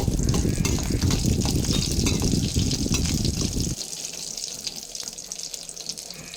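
Fenugreek seeds and crushed garlic sizzle and crackle in hot oil while being stirred in a pan, a loud steady hiss for a few seconds that then drops to a quieter frying sound.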